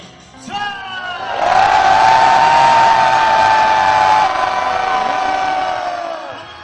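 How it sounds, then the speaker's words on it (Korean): A large crowd at a reunification rally lets out a long, sustained roar of shouting and cheering, loud and massed, swelling in and holding for several seconds before tapering off. "우리 힘찬 통일의 함성 한번 외쳐볼까요?"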